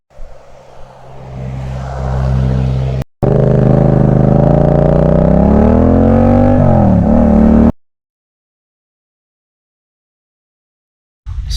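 A motorcycle fitted with Metzeler Racetec K3RR tyres, ridden hard like a sport bike, its engine note loud and close and rising in pitch under acceleration before cutting out abruptly, with a short gap and sudden return at the end.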